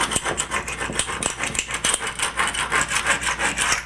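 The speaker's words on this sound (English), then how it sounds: "This also has a plastic scraper on it." Plastic scraper rubbing and scraping across tile on a tub shower surround, a steady run of rhythmic close strokes with occasional sharper clicks, no talk.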